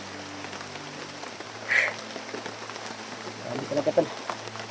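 Steady rain falls on an outdoor surface, a continuous soft hiss running throughout, with someone speaking briefly over it near the end.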